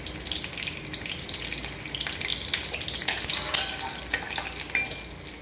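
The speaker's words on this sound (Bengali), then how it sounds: "কালো জিরে ফোড়ন দিয়ে লঙ্কা দিয়ে দিলাম।" Nigella seeds and chili tempering in hot oil, a sharp crackling sizzle with splashy bursts and a few louder pops near the end, close and without talk.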